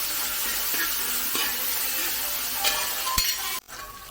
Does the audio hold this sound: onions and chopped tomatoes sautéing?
yes